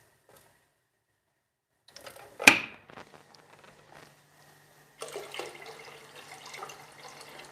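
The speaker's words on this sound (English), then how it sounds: "So now I'm gonna add more water." Filtered water splashes into a soup pot in a kitchen, a short gush after a quiet start, then a steady, softer pouring and trickling that continues to the end, with no talking.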